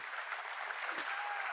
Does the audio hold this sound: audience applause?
yes